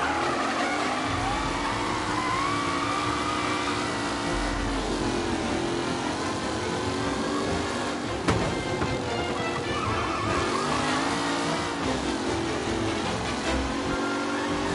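Race car engines roar and whine steadily through a final lap, with revving and tyre noise layered throughout and a race commentator talking over the continuous din.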